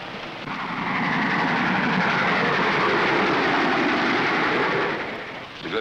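Train running in the classic film Half Way to Shanghai, a steady rumbling roar of rolling wagons that swells in and fades out over several seconds, with no voices.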